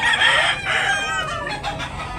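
Rooster crowing loudly and close at a chicken market in Tabunok, Talisay, Cebu, one drawn-out crow with a rising then falling call.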